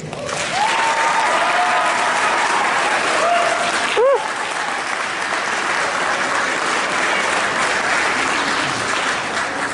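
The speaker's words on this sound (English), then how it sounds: "Give them a round of applause." Convention audience applauding the all-volunteer staff, sustained even clapping throughout, with a brief whistle-like tone and a sharp bump near the middle.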